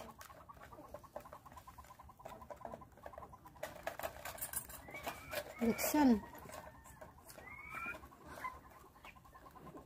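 Two hens pecking and eating feed quickly, a rapid patter of pecks with a few soft clucks, close by, under some brief speech.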